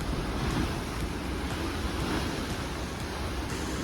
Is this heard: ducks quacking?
no